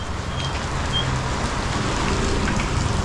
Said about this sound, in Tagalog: dumaan lang ang ulan